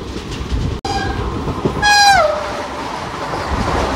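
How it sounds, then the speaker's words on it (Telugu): A Vande Bharat express train roars past close by at speed, its horn blaring briefly and dropping in pitch as it rushes away amid constant rail rumble. "విజయవాడ చెన్నై వందే భారత్. ఈ అమ్మ ఎంత స్పీడ్లో వెళ్ళిపోయింది"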